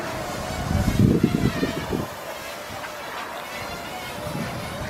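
Steady wind noise buffets the microphone of a flying Parrot Rolling Spider quadcopter drone throughout, with a louder low rumbling gust near the start and no talking.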